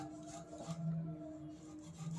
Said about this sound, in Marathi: आता हे काजू मी दाखवते असे कापायचेत